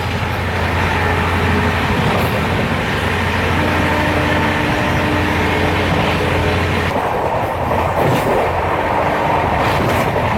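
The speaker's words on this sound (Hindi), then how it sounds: "हमारी ट्रेन 130 की रफ्तार से बढ़ती है" The Ahmedabad Gorakhpur Express runs at about 130 km/h, a loud continuous rumble and rushing roar heard from inside the carriage, with a sudden shift in tone partway through and no talking.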